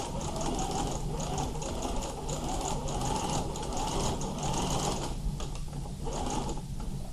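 A sewing machine runs steadily and loudly, stitching the side pockets of a teen girl's dress with continuous mechanical whirring and clicking throughout.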